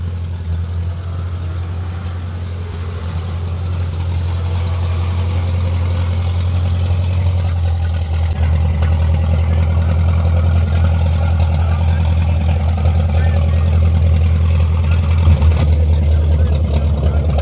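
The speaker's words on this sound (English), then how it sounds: "See, these cars sound great." Vintage race car engines idle at the Rolex Motorsports Reunion during Monterey Car Week, a deep, steady rumble close by with a low throb, growing slightly louder partway through as people talk nearby.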